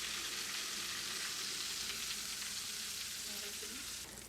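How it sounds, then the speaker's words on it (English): Battered chicken fries in hot oil, a steady, dense sizzle and crackle that stays loud and close throughout with no talk over it. "But you can see our batter is starting to brown. Everything's frying up."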